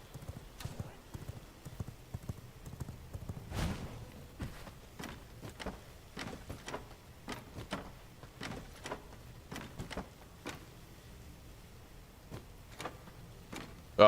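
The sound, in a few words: horse hooves clip-clop in video game V Rising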